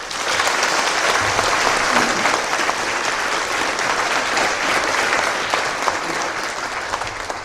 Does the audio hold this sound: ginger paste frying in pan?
no